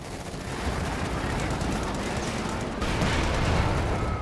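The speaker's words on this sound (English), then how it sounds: "it's the Soviet artillery being brought on in" Soviet artillery fire in Company of Heroes 2, a dense continuous roar of shelling and gunfire with a heavier surge of booms in the final second.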